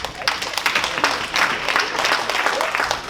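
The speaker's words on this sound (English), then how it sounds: "I want all the executive to stand up and clap for Professor Gold" Executives at a diaspora convention's morning session stand and clap for Professor Gold, a loud, close burst of crowd applause with sharp individual claps, continuous throughout.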